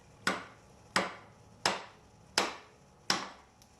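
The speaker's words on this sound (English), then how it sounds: "you want to take the ball peen side of the hammer and just lightly tap it in all the way till it's flush" The ball peen side of a hammer lightly taps a pilot bushing into place during a Nissan 240SX SR20DET engine swap, giving six evenly spaced, crisp metallic knocks, each ringing briefly before the next.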